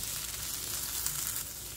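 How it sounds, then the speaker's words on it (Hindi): Potato stuffing sizzles steadily in a hot pan after two to three minutes of roasting, a continuous close crackling hiss with no talk. "यहाँ पर मैंने इसे 2 से 3 मिनट भून लिया है।"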